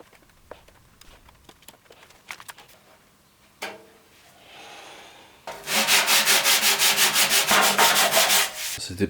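Body filler on a Ford Mondeo ST220 being sanded: a few soft scrapes and taps, a brief swish, then a loud, fast, rhythmic back-and-forth rubbing that runs for several seconds, close by.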